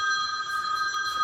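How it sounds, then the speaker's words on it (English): A telephone rings in a home craft room, giving a steady electronic warble that is clear and fairly close, with no one speaking over it. "Sorry, got a phone call."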